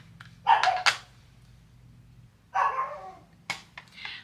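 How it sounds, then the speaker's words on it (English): A dog, Frank, barks in a few short, sharp bursts in the background indoors, spaced out over a low steady hum, with no talking. "Frank's barking in the background"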